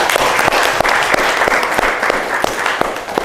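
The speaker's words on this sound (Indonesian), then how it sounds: "Tepuk tangan dulu untuk kelompok ini." A classroom group of students applauds together after a physics presentation on spring extension; steady, fairly loud clapping fills the room for about three seconds, with no talking over it.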